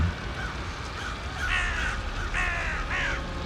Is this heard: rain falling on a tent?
no